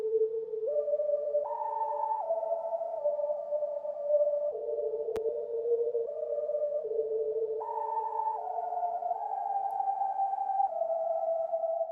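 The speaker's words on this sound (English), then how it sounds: "The first sound I grabbed was the Whistler's lead from Omnisphere" Whistler's lead synth from Omnisphere playing a simple dry melody with no effects, a clean whistle-like tone stepping through sustained notes, steady and alone.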